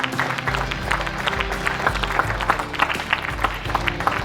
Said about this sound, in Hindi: जोरदार तालियां इस बात के लिए।